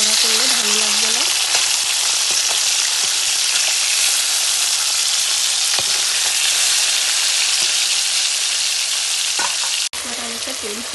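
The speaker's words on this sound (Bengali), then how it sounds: "তো মাছটা আমি বেশি ভাজবো না, হালকা হালকা করে ভাজবো" Rui fish pieces fry lightly in oil with a loud, dense, continuous sizzle close up, steady from start to finish with a brief dip near the end, and no one speaking.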